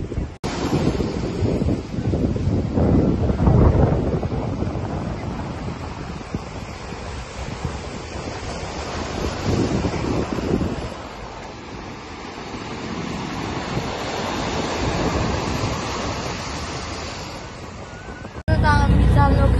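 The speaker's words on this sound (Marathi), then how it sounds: "समुद्र बघा खवळलाय वाटतंय." Rough, stormy sea waves surging onto Pirwadi beach in Uran during rain, a continuous loud roar of surf mixed with heavy wind buffeting the microphone, with a brief change near the end.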